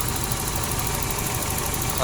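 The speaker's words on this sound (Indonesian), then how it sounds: "Ini mesin sudah saya nyalakan. Bisa kalian dengar suara mesin halus" A 1993 Volvo 960 2.3 turbo engine idling evenly, a steady close mechanical hum with fine rhythmic ticking, running continuously while someone talks over it.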